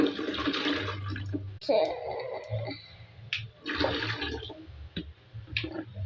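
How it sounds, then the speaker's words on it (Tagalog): Water rushes and gurgles loudly nearby in uneven surges, with brief pauses between bursts. "Water, big water."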